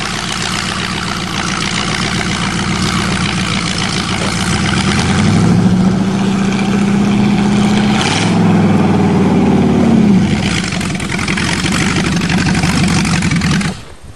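Off-road Cheviac engine running loud and steady, revving up and down in sustained surges over about fourteen seconds, with a brief dip midway before climbing again.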